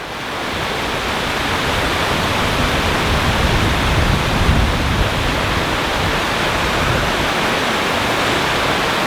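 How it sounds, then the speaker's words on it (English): Steady roar of spray pouring down at Bridal Veil Falls near Clark, Wyoming, a loud, unbroken broadband rush like heavy rain filling the whole scene without pause. "getting sprayed from the definitely get sprayed from the waterfall"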